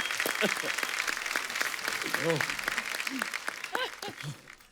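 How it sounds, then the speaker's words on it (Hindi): Studio audience applause for the star cast of Antim at a Kapil Sharma Show taping with a film star, a steady clapping wash running under cheering voices and loud shouted talk. "एक बार जोरदार तालियां हो जाए अंतिम की पूरी स्टार कास्ट के लिए"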